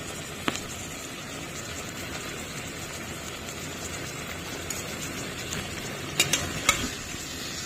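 Spices are sautéed and stirred in a pan for a spinach dish with radish and eggplant, making a continuous soft sizzle with scraping stirs and a few sharper clinks near the end.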